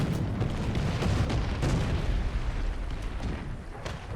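A tank is blown up in the War Thunder video game, a dense burst of booming explosion noise with rumbling debris that stays loud for several seconds, with no talk over it.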